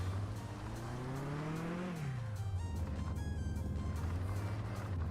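A car in the Mon Bazou game, with freshly done brakes, engine and intake, revs up steadily with a rising engine tone, drops as it shifts, then holds a steady drone while the tires spin, loud and close.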